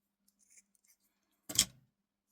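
A single quick snip of scissors cutting yarn, close and crisp, after a few faint soft rustles in an otherwise quiet room.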